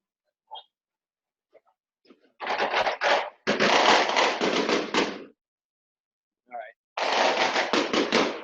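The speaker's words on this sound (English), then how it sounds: "when the fireworks go off in the favela" Fireworks crackle and pop in a favela, long dense bursts of rapid firecracker-like bangs coming in separate volleys with quiet gaps between them, with a few faint voices or animal sounds in the pauses.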